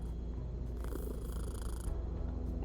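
A cat purring in the Kathy Rain 2 point-and-click game, a steady low rumbling purr that continues alone through the whole short stretch.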